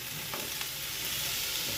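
Vegetables fry with spices in a little oil in a home kitchen pan, a faint, steady sizzle with soft stirring scrapes, close and quiet, without any talk.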